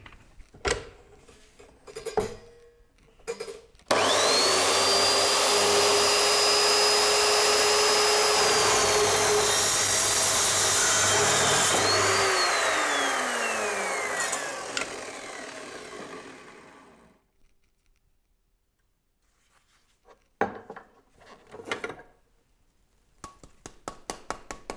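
An Evo Rage 4 chop saw fitted with a Motoyuki GLOB-FR-185N blade spins up and cuts for about twelve seconds, a loud, steady, close whine with a falling pitch as the blade bites, then winds down, with clattering handling noises before and after.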